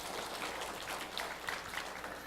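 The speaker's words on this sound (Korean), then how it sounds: "하나님께 영광의 박수 올려드리겠습니다." A church congregation gives a round of applause after a hymn, a faint, even patter of many hands clapping at a distance.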